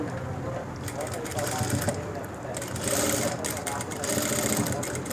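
A sewing machine runs steadily and close while stitching the shoulder of a school uniform coat, its even mechanical whir under a person talking.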